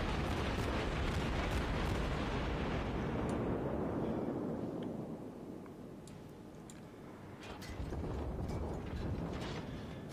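Heavy booming warship cannon fire in World of Warships, rolling blasts merging into a dense roar, then a brief lull before more thunderous bursts.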